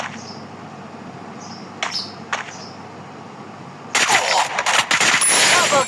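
Rapid gunfire erupts in a shooting video game, a dense burst of shots near the end following a few isolated sharp cracks and faint chirping tones over a quiet background.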